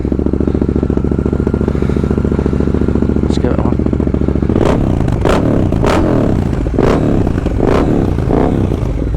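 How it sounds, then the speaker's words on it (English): A Triumph Thruxton RS motorcycle engine fires up and settles into a loud, close, steady idle, then rises through several sharp throttle blips in quick succession. "on a Triumph, you've got to start with the clutch in"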